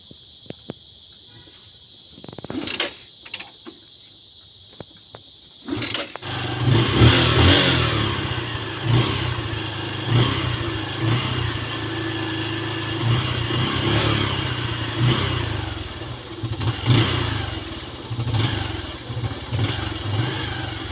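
Motorcycle engine freshly fitted with a new cylinder head gasket starts after a few cranking attempts, then runs loudly close by with a steady rumble and occasional revs, while crickets chirp in the evening background.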